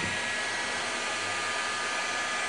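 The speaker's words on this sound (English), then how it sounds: "I will use this thermal gun" A heat gun blows hot air onto a thermocouple junction, producing a steady, even whooshing roar with no change in pitch or level, close and constant for the whole short span, no voices.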